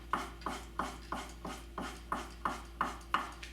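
A blade pulled repeatedly across a leather strop loaded with honing compound, about ten even, evenly spaced rasping strokes, close and clear with no talking.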